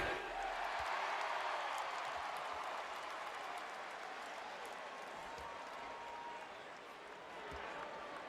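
A Los Angeles Lakers home crowd roaring at a 2006 NBA game against the Toronto Raptors, a sustained, loud wash of cheering and applause filling the arena and easing only slightly over time.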